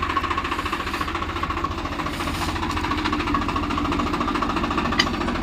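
A Swaraj tractor engine runs close by, a loud steady diesel chug with rhythmic knocking that holds unbroken throughout.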